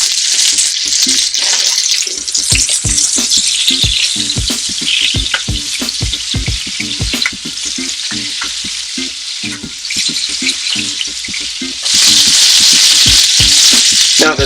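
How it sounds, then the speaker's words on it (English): Steak frying in hot fat in a pan, with the fat spooned over it: a loud, steady, continuous sizzle with crackling pops, growing more intense near the end, and no talking. "just keep that fat moving and running all over that steak"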